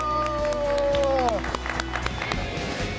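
Studio audience on a Spanish-language television show claps and cheers together with music, a loud sustained tone sweeping down in pitch over dense crowd noise, the applause continuing steadily to the end.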